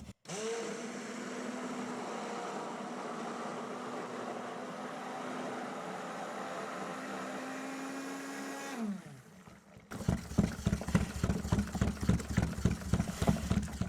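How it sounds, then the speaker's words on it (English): Stick blender mixing lavender soap batter with purple clay: a steady whirring hum for about nine seconds, a brief stop, then choppy pulsing bursts of the motor, loud and close. "So stirring and pulsing with a stick blender"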